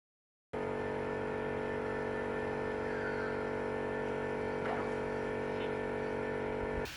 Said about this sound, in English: Now it's a thunderous great engine. It was a Bristol Hercules.